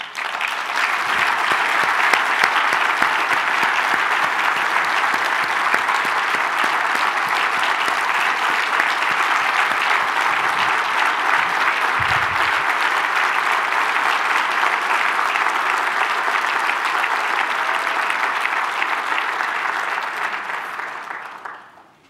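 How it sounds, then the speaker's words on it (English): An audience applauds at the Port of Long Beach's 2019 State of the Port event, in loud, steady, sustained clapping that fills the room for about twenty seconds before tapering off at the end. "And let's give them a round of applause for continuing to give us the service despite the fact they're not getting a paycheck."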